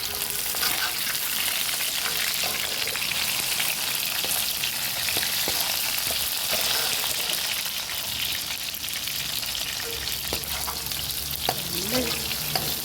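Ingredients for an oil mango pickle fry in hot oil with a steady, crackling sizzle, and occasional stirring scrapes and taps sound close by.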